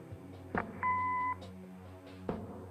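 A clean electronic answering-machine beep from the video game Kathy Rain sounds once, a steady two-tone tone lasting about half a second, framed by faint clicks and low room hum.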